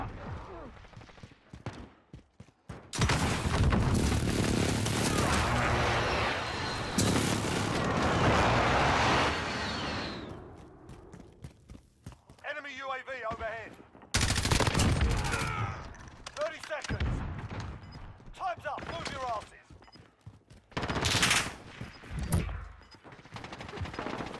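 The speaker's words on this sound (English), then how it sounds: "Enemy precision airstrike, take cover!" Heavy explosions from an airstrike in the video game Call of Duty Modern Warfare, long roaring blasts and rumbling bursts mixed with gunfire, loud and close, with shouted voices between them.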